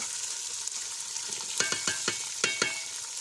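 Tomatoes, green chillies and garlic sizzle and crackle in hot oil, with a few sharp pops and spatters over a steady hiss, fairly quiet and close.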